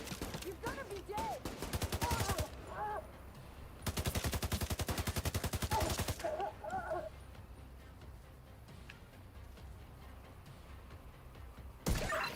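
Bursts of rapid gunfire from a video game firefight with snipers, two long loud volleys separated by quieter stretches, with scattered shots and faint voices in between.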